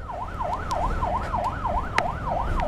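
An ambulance siren wails in a continuous rising-and-falling yelp at the scene of a collision between two vehicles, loud and steady over a low street rumble, with no one talking.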